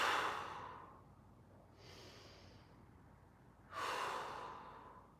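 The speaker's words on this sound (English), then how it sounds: "Let's take 5 deep breaths." Deep breaths during a mobility exercise session: a strong close breath at the start fades, a softer breath follows midway, then another full, airy breath rises, with no talking.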